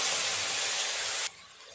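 Mustard paste frying in hot oil that has already fried fish and been tempered with nigella seeds and green chillies; a loud, dense, close hiss holds steady, then cuts off abruptly, leaving a faint background.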